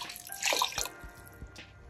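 Water pours into a pan for shrimp fried rice in a short splashing burst, followed by a few soft drips and light knocks, fairly quiet and close.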